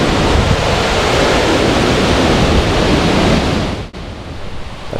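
Spray from Lares Waterfall in the Italian Alps roars as a loud, dense wash of noise, with a brief dip near the end, and no voices.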